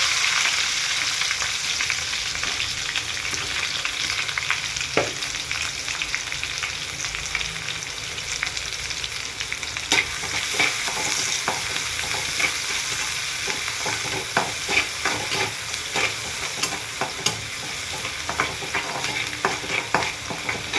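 Curry leaves and onions dropped into hot oil for an okra stir-fry, frying with a loud continuous sizzle and frequent scraping stirs of a spatula in the pan, close and steady throughout.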